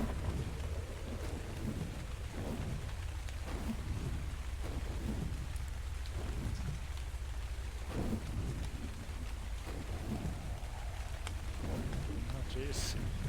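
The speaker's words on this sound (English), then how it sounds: "They got a bug right now where it's always raining," Continuous rain and low thunder rumbles in the video game ARK on the Crystal Isles map, a dense steady wash with repeated deep swells throughout, a voice faintly present beneath.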